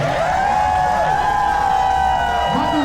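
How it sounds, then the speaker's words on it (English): Live show crowd at Cafe Nine in New Haven cheering and applauding for Michael, a loud sustained wash of clapping and whoops with voices mixed in. "One more round of applause for Michael, everybody"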